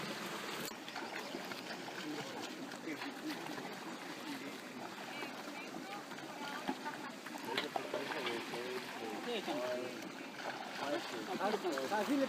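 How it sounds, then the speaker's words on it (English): Water from an underground source flowing down an irrigation channel, a steady close trickling and gurgling stream with small splashes that continues throughout the clip. "the water comes in from underground and continues down the channel"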